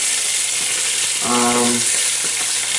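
Sausages browning in a pot sizzle and fry steadily at close range, a continuous hiss with a brief stirring scrape partway through.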